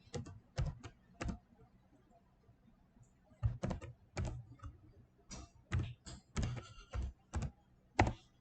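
Keys clack on a computer keyboard as a password is typed, a few quiet taps, a pause, then a faster irregular run of close, crisp keystrokes with no voice.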